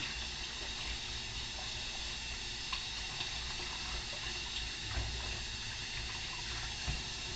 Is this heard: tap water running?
yes